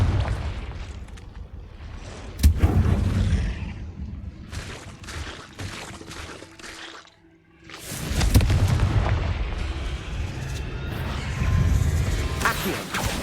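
Fiery Confringo spell blasts in the Hogwarts Legacy video game, cast inside a cave: deep booming bursts with rushing whooshes, one sharp hit early and a bigger roaring blast later, over a rumbling game background.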